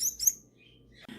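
A baby Turquoisine parakeet gives a couple of quick, high chirps up close, then goes quiet, followed by a brief soft rustle.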